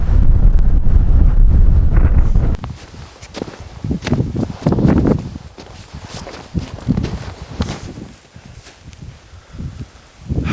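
Strong wind buffets the microphone on the summit of Schiehallion, a heavy rumbling roar that eases after a couple of seconds into gusty, uneven bursts, with crunching movement and no talk.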